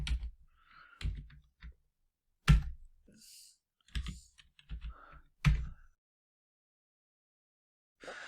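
Typing on a computer keyboard during a Python programming lesson: short irregular bursts of crisp key clicks, close and clear, separated by brief quiet pauses.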